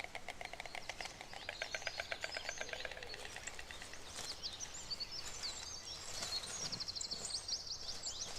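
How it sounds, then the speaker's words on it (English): A white stork in the Polish countryside clatters its bill in a fast, even wooden rattle lasting a few seconds, followed by small birds chirping in the background. "The bird's distinctive clattering is both a greeting and serves to strengthen the bond between"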